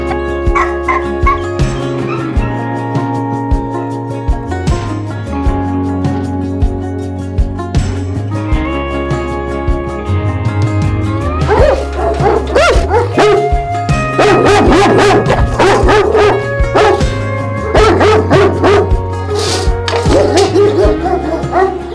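Several kept dogs bark and yip loudly in an excited chorus, overlapping barks and whimpers continuing steadily throughout with no pause.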